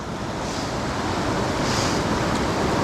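Dartmouth Rapids on the Youghiogheny River at Ohiopyle State Park in winter, a steady loud broadband roar of rushing whitewater with wind buffeting, continuous and without talk.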